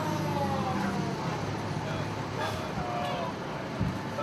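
Fire engine siren at a restaurant alarm call in a festival area, a wailing tone sounding over traffic noise as the engine arrives, with a low horn-like blast near the end.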